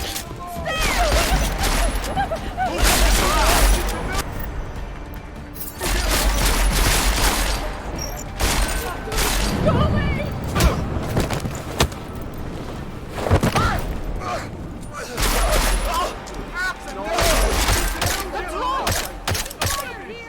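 Rapid automatic gunfire from a Deus Ex: Mankind Divided firefight comes in loud, dense bursts across the clip. Heavy impacts and mechanical clatter mix in, with brief lulls between the volleys.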